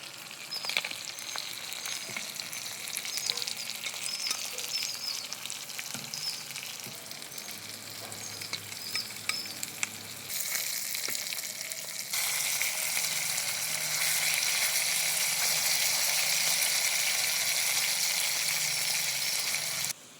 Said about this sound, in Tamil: மீன் வந்து ஃப்ரை ஆயிடுச்சு.